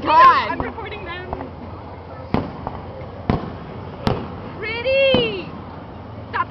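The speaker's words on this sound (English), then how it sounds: "Oh, fireworks! Oh my God. I'm recording them." Fireworks burst outdoors at night at a town festival, several sharp cracks and booms spaced a second or so apart, with excited voices shouting and squealing close by between the blasts.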